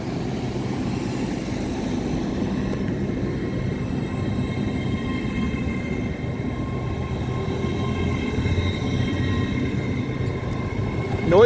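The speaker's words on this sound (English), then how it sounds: "The 1620 LNER Azuma service from London King's Cross to York" An LNER Azuma train, 801223, on the London King's Cross to York service runs through Grantham station with a steady rolling rumble of wheels on rails and an electric whine, building slightly louder toward the end.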